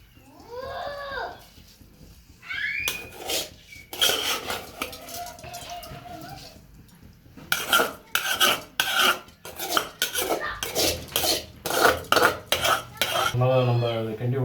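A utensil stirs chicken biryani rice in a metal pot, giving close scraping and clinking strokes in quick bursts, with a brief meow-like sound at the start.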